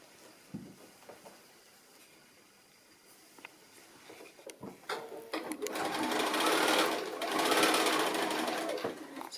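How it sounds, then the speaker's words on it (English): Sewing machine stitching a quarter-inch seam around the top edge of a fat-quarter fabric basket: a few short clicks and taps, then a loud, fast continuous whirring run of stitches that pauses briefly and resumes. "I'm going to stitch it in place with my 1/4 inch seam all the way around the top edge"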